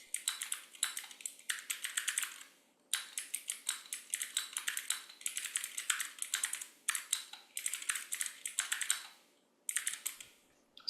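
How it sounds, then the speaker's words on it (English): A very clicky computer keyboard typed in quick bursts of crisp, close clacks with short pauses between them, faint and alone with no talking. "I've got a very clicky keyboard"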